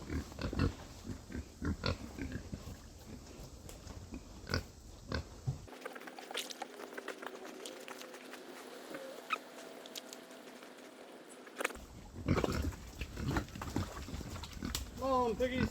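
Pigs in a silvopasture grunt and snuffle while eating windfall apples, with soft, irregular grunts and rustling close by and a person talking now and then.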